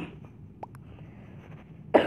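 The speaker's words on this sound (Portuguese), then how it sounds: "eu vou estar tossindo porque eu tô passando muito mal" A person who is feeling ill coughs once sharply near the end, after a quiet stretch with a few faint clicks and small throat sounds close to the microphone.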